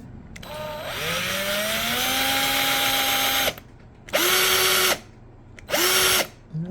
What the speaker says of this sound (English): now we're gonna drill the next pilot hole.